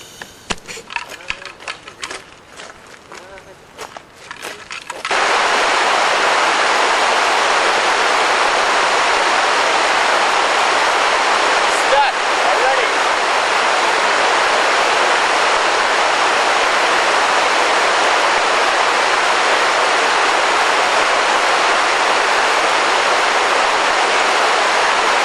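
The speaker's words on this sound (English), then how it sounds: "This river is very fast flowing." Fast-flowing, murky river swollen after rain, a loud, steady rushing roar close by that continues unbroken, following a few seconds of scattered clicks and handling noise.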